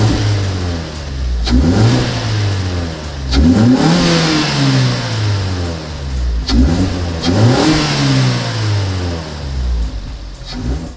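Car engine fitted with a cold air intake revving repeatedly, each throttle blip sweeping up and falling back in roughly three-second cycles, loud and close with throaty induction sound and no talking.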